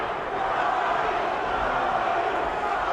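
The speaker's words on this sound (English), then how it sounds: "And the crowd yelling for Charles Oliver." A large boxing arena crowd of over 25,000 yells for fighter Charles Oliver during a James Toney bout, a steady dense roar of many voices filling the space without pause.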